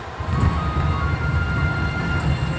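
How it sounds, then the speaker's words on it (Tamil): A train rumbling steadily along the tracks, a continuous low rolling roar with faint rhythmic clatter, close and fairly loud, no voices. "அப்படியே நம்ம ட்ரெயின் நல்லா போயின்னு இருந்தது."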